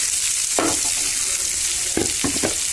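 Raw mango pieces saute in hot oil with mustard seeds for a mango pickle, giving a loud, dense sizzle close by, broken by a few quick scraping stirs of a spoon in the pan.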